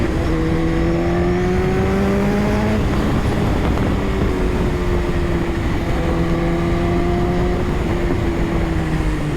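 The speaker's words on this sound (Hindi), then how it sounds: "रेस ट्रैक में गाड़ियां काफ़ी हैं।" Cars run on a race track, loud and close, with engine tones rising through gear changes, dropping at a shift and climbing again in one continuous roar and no talk.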